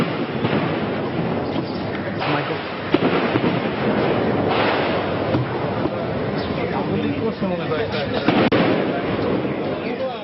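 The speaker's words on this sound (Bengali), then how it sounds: "গুলির শব্দ।" Rapid bursts of gunfire crackle and pop continuously during a joint police, SWAT and army raid on the Artisan restaurant, with sharp reports standing out over a dense, noisy background and voices talking throughout.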